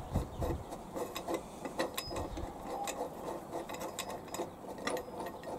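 A bolt being loosened with a hand tool to remove a mower blade, giving quiet, irregular close-up clicks and scrapes with soft knocks at the start.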